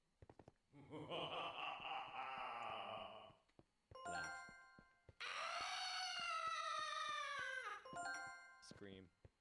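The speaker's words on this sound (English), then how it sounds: "Scream." Scream sound effects triggered by a button in a Minecraft map: a long loud shrill wail, a short burst, then a second sustained high scream falling off at the end, with brief jingly tones between, played alone.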